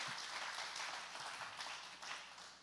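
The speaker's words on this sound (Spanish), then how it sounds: "dale el más fuerte aplauso a nuestro amado Jesús" Congregation applause at a church worship service, a sustained wash of many hands clapping at moderate distance, swelling and easing in waves throughout without any speech.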